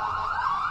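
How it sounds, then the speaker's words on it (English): Siren wailing on a street in Oakland, a loud continuous rising and falling tone that holds steadily throughout, with low traffic rumble beneath it. "Oh, you hear the sirens."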